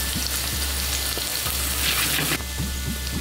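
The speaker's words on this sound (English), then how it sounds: "Curry leaves going in." Loud, continuous sizzle of curry leaves dropped into a hot frying pan with cumin seeds and onions, crackling and popping steadily throughout.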